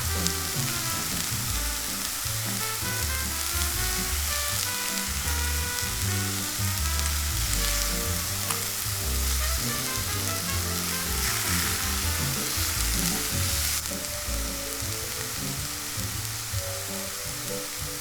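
Italian sausage sizzles and crackles steadily in a hot pan, with a meat chopping tool scraping and breaking up the meat throughout.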